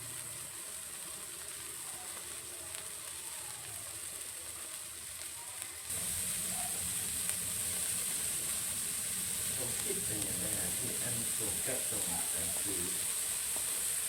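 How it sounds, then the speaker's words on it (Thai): Water boils with a soft, steady hiss and faint bubbling, growing a bit louder partway through and continuing without pause. "รอ น้ำเดือดครับผม"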